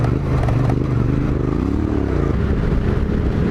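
A Yamaha Tenere adventure motorcycle on Dunlop D908RR rally raid tires churns through sand, its engine a loud, steady, close rumble with a slight rise and fall in pitch, overlaid by gritty clatter and wind.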